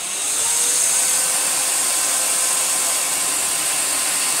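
A worn Samsung CyclonePower 2200W vacuum cleaner runs loud and close, a steady high-pitched whine and airflow roar that holds constant throughout.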